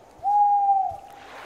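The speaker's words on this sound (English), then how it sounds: "Just an owl, nothing to be worried about." A single owl gives one long, steady hoot that lasts about two-thirds of a second, clear and fairly close against the quiet of a night hunting trip after a deer.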